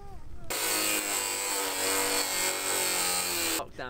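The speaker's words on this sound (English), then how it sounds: "So I just grind it off." A power grinder cutting off a part on a Scott Ransom mountain bike build, a loud continuous high whine held for about three seconds, close up, starting and stopping abruptly.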